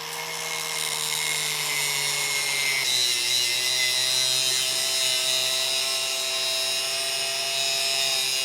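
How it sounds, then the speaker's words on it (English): A cut-off wheel grinds through a metal motor part in the shop, a loud, continuous high whine with a sustained hiss that shifts pitch partway as the load changes. "Let's go outside and use the cut-off wheel."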